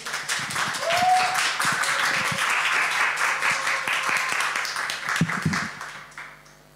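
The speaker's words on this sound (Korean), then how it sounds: "우리 목사님 나오실 때 큰 박수로 환영하겠습니다" A church congregation at a Sunday worship service claps steadily to welcome the pastor, a dense, loud applause that fills the room and tapers off near the end, with a voice briefly heard over it.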